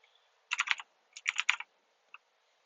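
Computer keyboard typing a name and email address, two quick bursts of several close keystrokes each, then a single faint tap after a pause.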